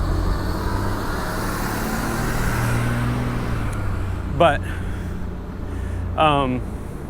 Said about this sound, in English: this car's waiting for me to go, and I'm waiting for her to go